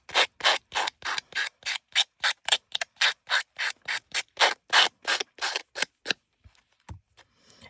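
A sanding block rubs over a small recycled playing-card ornament in steady back-and-forth strokes, about two dozen quick scrapes in a regular rhythm. The strokes are close and moderately loud, then stop near the end, with no talk.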